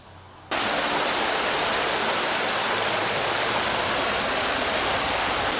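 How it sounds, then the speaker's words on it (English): Rushing water of Wyming Brook in a Peak District nature reserve in the Rivelin Valley, a steady, close, broadband roar that starts abruptly after a brief quiet moment and then continues unbroken. "it's really nice to hear the sound of rushing water"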